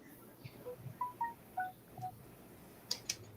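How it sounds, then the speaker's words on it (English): A string of short electronic notification tones arrives in quick succession, faint and chirpy, with a few brighter beeps near the end in a quiet studio room. "Somebody's giving warnings. Getting notifications."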